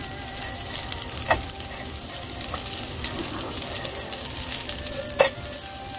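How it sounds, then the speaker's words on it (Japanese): Yakisoba noodles pan-frying crisp in extra oil, a steady close sizzle with a couple of occasional scrapes from a stirring utensil. "これをねパリッパリと揚げ焼きにしてるんですよ"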